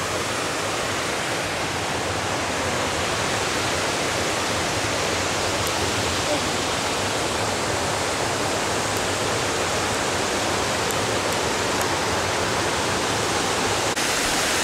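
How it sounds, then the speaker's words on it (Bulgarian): Skakavitsa Waterfall roars with steady, dense rushing water, heard close and loud and unbroken throughout, with no voices over it. "Ето го и самия водопад."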